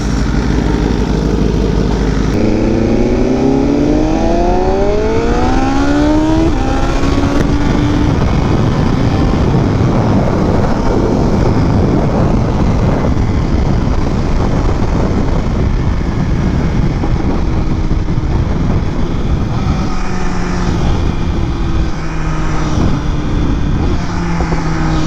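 A BMW M1000RR motorcycle fitted with a new exhaust, its engine loud and close as it revs with rising pitch sweeps, then a steady roar of riding with heavy wind rush over the microphone.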